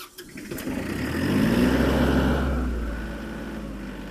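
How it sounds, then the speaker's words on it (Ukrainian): The diesel engine of an ISEKI TK25 Japanese mini tractor cranks and catches, rising into a loud rough idle that settles and holds steady. "Наш трактор завівся."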